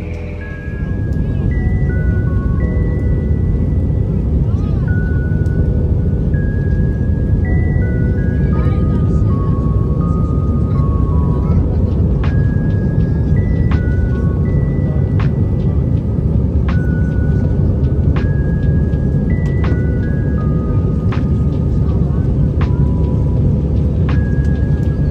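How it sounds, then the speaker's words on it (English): An airplane engine roars at an airport in Virginia as a steady, loud rumble that lasts throughout, with people talking over it and faint tonal beeps above. "Probably our plane"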